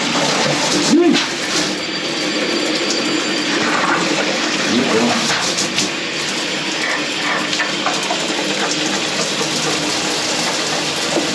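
A shower in a newly renovated bathroom runs hot water in a loud, steady spray that continues throughout, with a man's brief exclamations heard over it.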